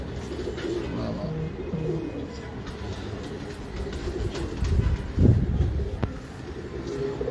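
Soft, low coos of Sialkoti pigeons roll on steadily through a rumbling background, swelling briefly louder near the end; no one speaks.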